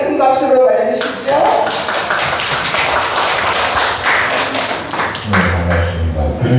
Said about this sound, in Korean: 이만희 소장님 큰 박수로 맞아주십시오.